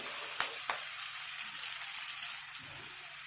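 Onion, green chili and chopped curry leaves sautéing in a pan for kara pidi kozhukattai, a steady soft sizzle with a couple of brief clinks near the start.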